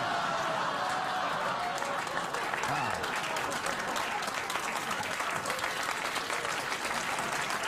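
Sustained studio audience applause on a late-night talk show fills the whole stretch, dense and steady with a faint whistle or cheer partway through.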